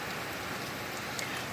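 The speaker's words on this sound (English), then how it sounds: "the sound of the rain and the ocean combined together" Heavy tropical rain pours down in Ghana, West Africa, near the ocean, a dense, loud, continuous roaring hiss with no talking.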